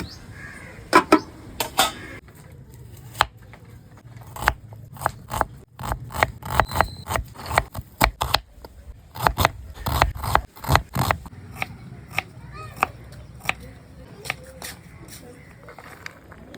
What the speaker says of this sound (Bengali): আমি তো তখন চিকেন টিক্কার জন্য পেঁয়াজ আর কাঁচা লঙ্কাগুলো কেটে নিই